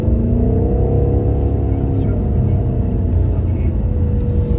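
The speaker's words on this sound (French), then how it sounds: "c'est là où on va pouvoir exploiter ce couple qui est juste astronomique de cette voiture" BMW M8 Competition Gran Coupe with 625 hp, driven on narrow mountain roads in the rain, gives a steady, loud engine rumble with a continuous low drone heard from inside the car.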